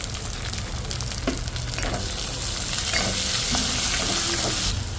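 Tomatoes and green chillies fry in a pan with a steady, close sizzle that runs the whole time, broken by scattered stirring clatter and crackles.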